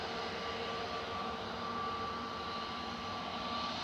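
Aircraft taxiing at Manchester Airport, a steady broadband engine roar with a faint whine, continuous and moderately distant throughout with no talk.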